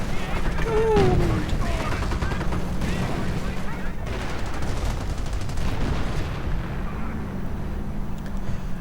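WWII strategy game battle with dense gunfire and artillery, rattling shots and booms layered over a constant rumble, while a commentator speaks over the fighting.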